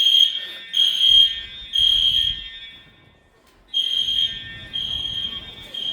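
An Edwards Genesis ceiling-mounted fire alarm sounds in a school bathroom with a loud, shrill electronic tone in repeated long bursts and a brief pause partway through, over faint background rumble.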